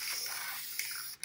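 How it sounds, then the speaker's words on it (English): Aerosol sealant sprayed over a mosaic tile rock: a steady close hiss running continuously, then a brief pause and a short final burst. "I'm going to spray that one too."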